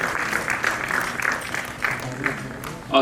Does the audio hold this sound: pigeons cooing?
no